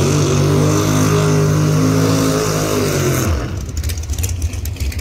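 A Camaro and a Mustang pro mod drag car, one nitrous and one turbo, steel body, roar down the strip at full throttle, a loud sustained engine howl that drops off sharply as they pass and fade.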